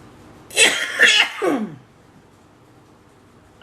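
A person nearby gives a short, harsh burst of three quick coughs in close succession, loud against a quiet room, followed by near-silence.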